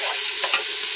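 Ground beef sizzles in a hot pan at medium-high heat for a cabbage soup: one short, dense, even hiss heard up close with no talk.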